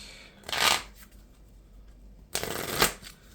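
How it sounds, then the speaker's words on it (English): A deck of cards is shuffled for a Marvel Champions board game, two quick riffling bursts about two seconds apart, close and crisp against a quiet room. "Shuffling my deck."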